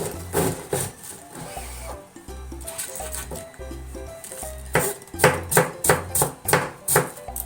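A knife finely shreds a whole cabbage on a cutting board for sauerkraut, giving a fast, steady run of close, crisp chopping taps in bursts that grow denser and louder toward the end.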